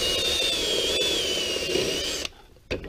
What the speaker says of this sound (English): Drilling the hole.